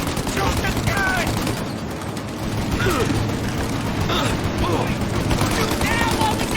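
Sustained heavy gunfire and turret shooting in the Mafia Definitive Edition (2020) video game, dense rapid bursts with booms and mechanical clatter, loud and continuous throughout, with voices shouting over the battle.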